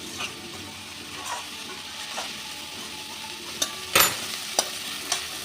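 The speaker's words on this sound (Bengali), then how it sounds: "দিয়ে দিচ্ছি একটু গোলমরিচ গুঁড়ো আর দিচ্ছি অল্প বিট নুন দিয়ে ভালো করে আর একটু নাড়িয়ে নিচ্ছি" Chow mein vegetables seasoned with pepper and salt are stirred in a pan, giving a soft continuous sizzle with a few sharp scrapes and knocks of the utensil, close and fairly quiet.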